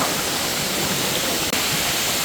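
A waterfall at a Laguna resort roars in a dense, unbroken wash of rushing water, loud and close throughout.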